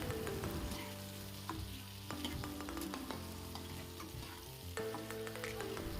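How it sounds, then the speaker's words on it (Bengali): Potatoes frying in oil in a wok, a constant crackling sizzle with occasional clinks and scrapes of stirring, close and moderately quiet, no talking. "আবারও ওই তেলেতেই আলুগুলোকে ভেজে তুলে নিতে হবে।"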